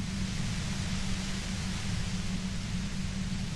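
Steady white-noise static hisses evenly throughout, a constant broadband rush with a low rumbling layer underneath, with no voices.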